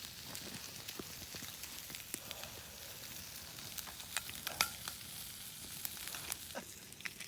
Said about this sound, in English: Sizzle, pork.